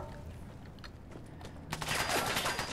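Gunfire in Fallout 4: quiet ambience gives way to a sudden burst of rapid automatic shots that rattles on, loud and close, until the end.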